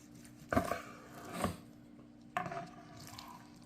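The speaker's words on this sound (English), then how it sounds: "to slice it open I have to use my favorite slicing knife" A slicing knife cuts through a smoked Texas-style brisket on a board, giving three soft, wet strokes spaced about a second apart, close and quiet with no talking.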